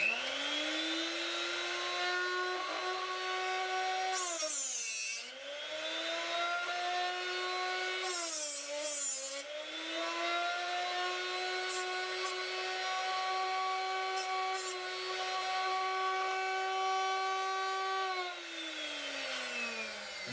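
A Darex Drill Doctor 250 sharpener runs with a steady high motor whine, dipping in pitch twice as a drill bit is pressed against the grinding wheel, then recovering.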